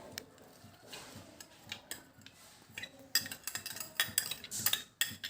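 Chopped salad vegetables tossed with a hot dressing poured over them, giving soft clinks and wet rustles of utensils against a bowl that grow busier and louder toward the end, close and with no voices.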